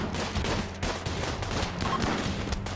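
Rapid gunfire from a RimWorld video game battle, dense bursts of shots in steady overlapping volleys that barely pause, loud and continuous for the whole stretch.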